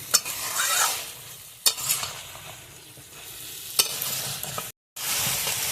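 Drumstick vegetable curry masala stir-fried in a pan, a soft sizzle broken by a few sharp scrapes and knocks of the spatula against the pan, with a brief silent gap near the end and no talk.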